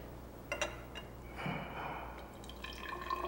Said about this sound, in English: I'm going to pour 50 mL of it into the cylinder